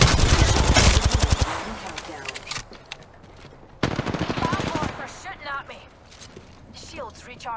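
Rapid automatic gunfire from the Apex Legends battle royale game, a loud dense burst of shots in the first seconds, then a second short volley, with game effects and a voice talking over the later part.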